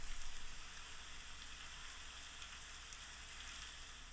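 Steady rain falls as a faint, continuous hiss of drops with no change in intensity and no voices.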